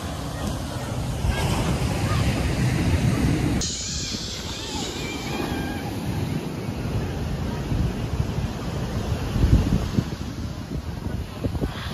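Sea surf at Cabo Branco beach, a continuous roaring wash of waves mixed with heavy wind buffeting on the microphone, close and steady throughout.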